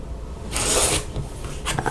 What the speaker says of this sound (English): I'm going to cut on the solid lines on the inside.